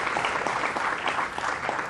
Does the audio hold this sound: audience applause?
yes